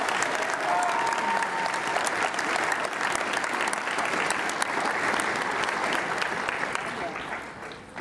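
A convention audience of Civitans applauds their 2009-2010 district governors, dense, steady clapping filling the room for several seconds before tapering slightly at the end, with a faint voice and tone underneath.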